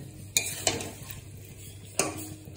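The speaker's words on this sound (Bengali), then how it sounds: "একটু বেশি লঙ্কা দিলাম। মিক্স করে দিলাম।" A utensil stirs chili into chicken curry in a pan, giving a few sharp metallic clinks and scrapes over a faint, low sizzle, heard close with no voices.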